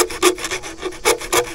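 Hand filing of a nailed-down wooden piece outdoors, heard as rhythmic rasping strokes, about six close and loud back-and-forth scrapes in a steady pattern.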